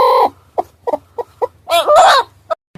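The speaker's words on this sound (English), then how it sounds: "H for hen." A hen clucking in a series of short, sharp clucks, then a louder, drawn-out squawking call near the end, close and clear with no other sounds.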